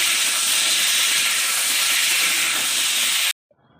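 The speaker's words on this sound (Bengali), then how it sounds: "এই যে এখন আলু কটা দিয়ে দেবো। আলু কটা একটু ভেজে নিই।" Potato pieces fry in a pan for a fish and potato curry, giving a loud, steady close sizzle that cuts off abruptly after about three seconds.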